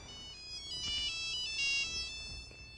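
Cell phone ringtone sounding for an incoming call, a bright repeating electronic melody that plays steadily and fairly close for the whole stretch, with nobody talking over it.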